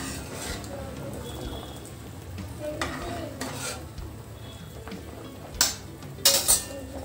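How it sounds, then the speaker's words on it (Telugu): Moong dal paste bubbles in a pot while a spoon stirs it steadily, with soft scraping and sizzle throughout and a few sharp utensil clinks against the pot near the end. "ఇప్పుడు పెసరపప్పు బాగా ఉడుకుతుంది ఫ్రెండ్స్."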